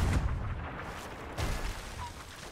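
Cannons fire in Sea of Thieves during a ship battle near an island, with a few dull booms and bursts over a steady rumbling wash of sea and wind, moderately loud, with no talk.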